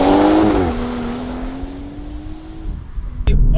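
A BMW M140i Shadow Edition with an 8-speed gearbox pulls away, its engine drone climbing steadily in pitch as it accelerates, heard from inside the car, then a sharp click near the end.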